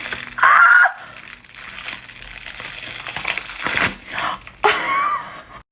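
Gelatin special effects makeup peeled away from skin in close crinkly, crackling tears, with a loud burst near the start and another toward the end, quieter rustling in between.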